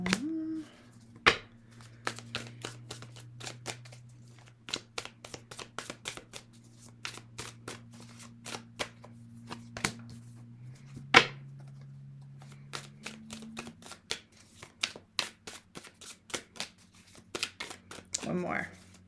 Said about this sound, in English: draw, shuffle, draw, just to make sure